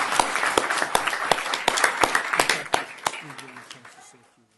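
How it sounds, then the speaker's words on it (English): Scattered clapping from a small audience at a school board meeting, sharp individual claps that thin out and fade, with a voice briefly heard as the applause ends. "let's give them a round of applause."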